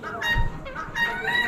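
Splash lace Wyandotte roosters at a bird auction give short, raspy fowl calls, fairly close and loud, over a busy background with a faint voice.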